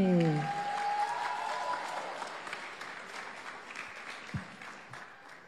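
Audience applause greets two performers taking the stage at a Myanmar Star singing competition's final first round. It starts as a loud, dense wash of clapping, then thins and fades over several seconds, with a faint voice near the start.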